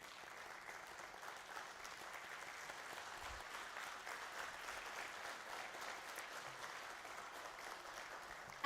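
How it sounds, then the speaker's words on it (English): An audience at a company stock listing ceremony gives a round of applause for Jignesh sir, with steady, moderately distant clapping throughout. "I would like to ask a huge round of applause for Jignesh sir first of all"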